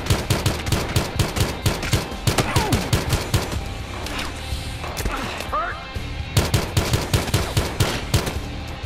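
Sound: gunfire in Battlefield Hardline video game

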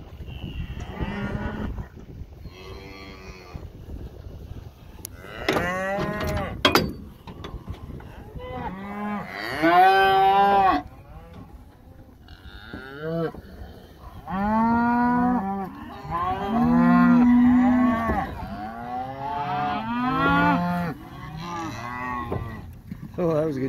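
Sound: cattle mooing while being let out to pasture

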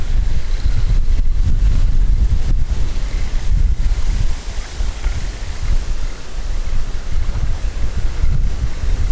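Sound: strong gusty wind while fishing

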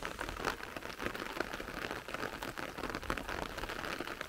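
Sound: rain falling

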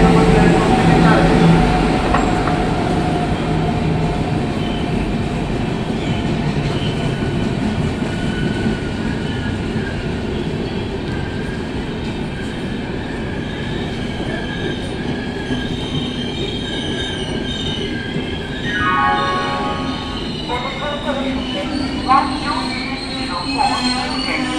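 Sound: Poorva Express train arriving at a station

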